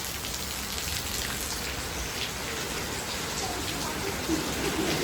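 Heavy rain falls steadily on hard surfaces, a dense continuous hiss with scattered drops, heard during a wet journey out of Mumbai traffic; faint background voices sit under the downpour.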